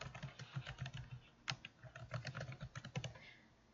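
Quick, uneven clatter of keys on a computer keyboard, close by and quiet, with no voices.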